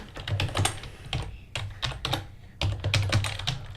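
Close, crisp clatter of a computer keyboard as a short line of code is typed, with bursts of rapid keystrokes separated by brief pauses.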